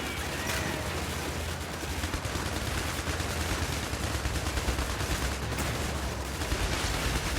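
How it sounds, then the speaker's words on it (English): Continuous automatic gunfire in the war game IS Defense, a dense, steady roar of rapid shots at close range that holds level for the whole stretch, with occasional heavier bursts. "Trying not to gun down my own guys"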